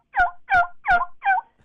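A voice imitating a wild turkey hen call, made deep in the throat: four loud, evenly spaced yelps in a steady rhythm, close and alone.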